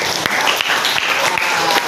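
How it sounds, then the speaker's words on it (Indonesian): A room of people claps together, a dense, fairly loud patter of many hands lasting about two seconds with a few sharper individual claps standing out, heard close up. "Oke, tepuk tangan."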